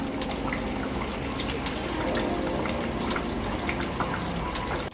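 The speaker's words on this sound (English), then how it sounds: "We'll let this just simmer" Unripe plantain porridge with chopped scent leaf simmers in a pot, giving off a steady, soft bubbling hiss dotted with small pops and ticks throughout, with no voices.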